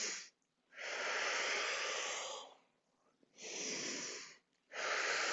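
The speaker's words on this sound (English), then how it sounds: "I'm doing a pretty active inhale, active sniff through my nose, and then on the exhale, I'm slowing down the exhale a little bit" Close breathing through the nose: long, hissy airflow, each active sniffing inhale paired with a slowed, drawn-out exhale, separated by quiet gaps, with no talking over it.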